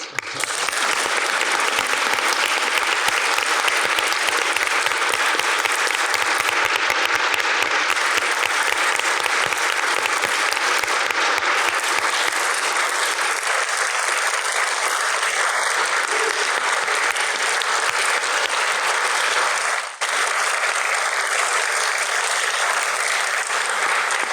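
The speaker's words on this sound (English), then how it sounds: "Now, of course, Justice Goldman, a round of applause." A room applauds Justice Goldman at a judicial appointments commission hearing: steady, even clapping from many hands continues uninterrupted for over twenty seconds, loud and close, with no talk over it.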